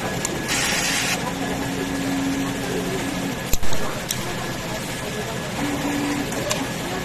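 A sublimation printer runs its head clean cycle with a steady mechanical whir and a few tonal whines and clicks, and a voice talks over the machine noise.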